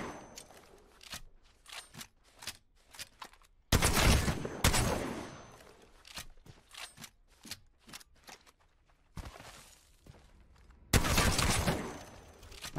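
Mastiff shotgun in a video game firing in rapid bursts, with loud broadband blasts around four and eleven seconds between busy clicking and clattering handling sounds.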